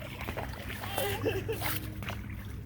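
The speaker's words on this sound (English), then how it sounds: "Splash." Kayaks paddled on calm water give soft splashes and sloshing paddle strokes at moderate distance, with people talking faintly alongside.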